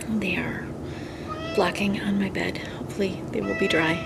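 A cat meows a few times indoors near a bedroom, small high calls that come up between and under a woman's quiet speech, with a steady laundry machine hum behind.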